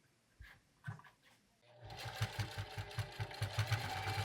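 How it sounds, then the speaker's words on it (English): A sewing machine stitches across webbing on a utility pouch, with a few soft handling bumps first before the motor whirs up into a fast, even, close mechanical chatter that runs to the end. "we'll just put a stitch in there and that'll hold it in place"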